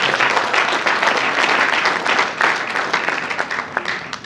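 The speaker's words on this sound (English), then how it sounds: "Let's give her a warm round of applause." Sustained, dense applause from a large audience at a book launch event, loud and steady for several seconds with a slight easing toward the end.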